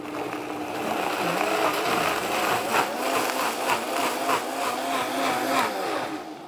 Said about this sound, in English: All that is going to go onto the blender base, top on. And for this salsa, we make a smooth puree.